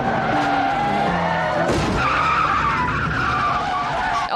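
Car tyres skid and squeal loudly as a vehicle drifts in the movie Ronin, a sustained screech over a roaring engine with a sharp shift midway.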